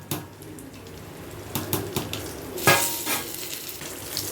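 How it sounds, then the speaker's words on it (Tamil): Rice for Hyderabadi chicken biryani is stirred in a pan over a low sizzle. A few scraping strokes and clatters stand out near the middle. "சோறையுமே லைட்டாக கிண்டி கொடுத்துக்கலாம், கிளறி கொடுத்துக்கலாம்."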